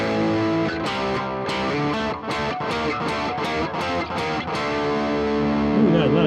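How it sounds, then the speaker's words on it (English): Distorted guitar played through a podcast mixer's Brit Rock 1978 preset, with heavy echo, strummed chords at a steady rhythm ringing on continuously and loudly, without any talking. "we got a lot of echo there."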